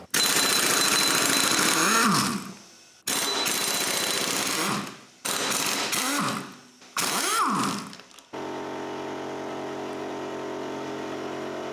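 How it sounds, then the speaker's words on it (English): An impact gun hammering out flywheel bolts on a Toyota MR2 engine, four loud rattling bursts of a couple of seconds each with short gaps, close up, followed by a steady lower mechanical hum, no talking. "going straight to the impact gun"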